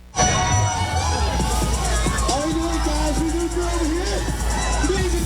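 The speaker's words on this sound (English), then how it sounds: "The annual 4th of July parade kicked off festivities in Laurel this morning." A large crowd cheers and shouts at a Fourth of July parade on Main Street in Laurel, a loud, continuous din of voices, children yelling and festive noise with a steady background hum.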